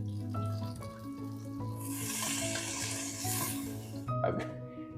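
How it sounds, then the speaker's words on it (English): Venison sizzles and crackles frying in batches on high heat in a hot pot, the frying hiss swelling in the middle, with clinks of utensils and a low background hum. "on a high heat, we're going to fry in batches this venison"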